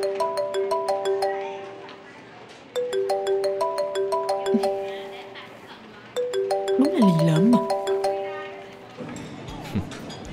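A mobile phone ringtone plays a repeating melodic tone pattern three times in a row, the call going unanswered, with a person talking briefly over it near the end.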